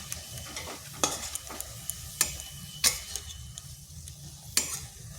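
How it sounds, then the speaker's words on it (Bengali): Carrots stirred in sugar syrup in a pan, a soft continuous sizzle with repeated sharp scrapes and taps of the utensil against the pan at irregular intervals, close and alone without talk. "এইভাবে নাড়তে থাকলে চিনির রসটাও শুকনো হয়ে যাবে আর আমার গাজরটাও সিদ্ধ হয়ে যাবে"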